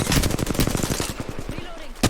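Rapid automatic gunfire in the shooter game Apex Legends, a fast close burst of evenly spaced shots that trails off, then a final single shot.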